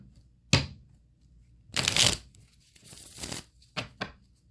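Tarot cards are shuffled in several short riffling bursts, crisp and close, separated by quiet pauses.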